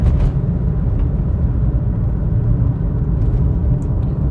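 A Toyota WiLL Vi with a traditional automatic gearbox drives along, its steady road rumble and low drivetrain whir filling the cabin continuously, with no talk.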